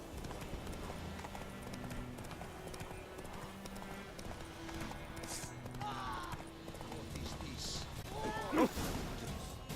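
Horse hooves clip-clopping at a steady run in The Witcher 3: Wild Hunt, a continuous rhythmic trot over a busy game ambience with a brief snort or whinny near the end, no talk.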